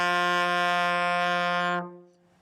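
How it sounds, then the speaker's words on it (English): A trombone's first note sounds as one steady, loud brass tone held for nearly two seconds with rich, even harmonics, then cut off cleanly into a quiet tail. "And that's your first note on the trombone."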